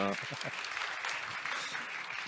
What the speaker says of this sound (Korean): 박수 한번 다시 부탁드리고요